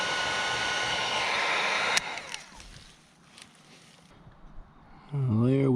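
A heat gun blows a steady, close, loud hiss over heat-shrink tubing during a wire repair on a 1988 Yamaha Moto 4 YFM225 ATV; the blowing drops away midway and then returns under a brief voice.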